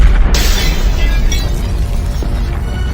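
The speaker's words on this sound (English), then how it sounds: "Suddenly, an explosion occurred in the forward cargo compartment." A sudden loud broadband blast from an explosion in an airliner's forward cargo compartment erupts after a brief moment, followed by a sustained roaring rumble of decompression that fills the rest of the clip.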